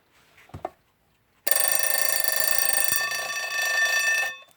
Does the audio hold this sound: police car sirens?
no